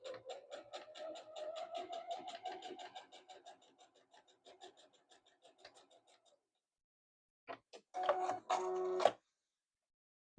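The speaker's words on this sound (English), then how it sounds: "And I'm just going to hold on here and start stitching." A sewing machine runs a longer stitch length, quilting a fabric pouch with a fast, even chatter of stitches that slows and fades out, followed after a pause by a few louder mechanical clacks.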